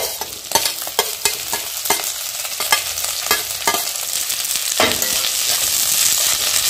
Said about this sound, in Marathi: कांदा भाजून झाल्यानंतर बटाट्याबरोबर गाजर पण भाजा आणि स्वीट कॉर्न